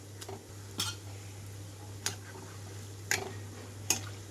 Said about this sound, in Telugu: రెండు నిమిషాల తర్వాత మెల్లగా కదిలిస్తున్నాను